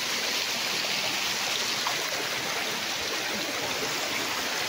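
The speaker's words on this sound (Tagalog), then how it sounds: "Falls na maliit." A small waterfall on a road trip from Española, Palawan to Puerto Princesa gives a steady, even rush of flowing water that fills the whole stretch, with no voices over it.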